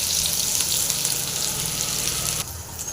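Crushed garlic, onion and mustard seeds fry in hot oil for a raw banana dish, giving a loud, close, continuous sizzle that drops off sharply near the end.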